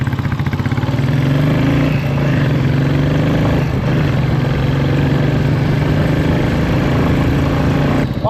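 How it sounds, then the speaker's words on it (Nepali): A motorbike engine runs in a steady, loud idle with a rapid low putter throughout, holding an even rhythm with a slight shift near the start and a brief clatter at the end, no talk. "स्टार्ट हुन्छ नि तेरो बाइक"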